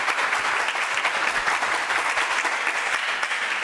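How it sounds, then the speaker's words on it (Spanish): Continuous, dense applause from a congress audience welcoming a speaker at an arbitration conference, loud and steady for the full few seconds. "unos aplausos para la doctora."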